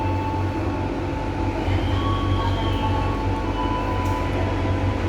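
Continuous low rumble and rattle of a farmers' and traders' passenger train running from Rangkas to Merak in western Java, heard from inside the carriage and loud throughout, with faint squeals over the steady drone.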